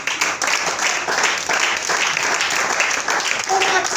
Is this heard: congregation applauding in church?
yes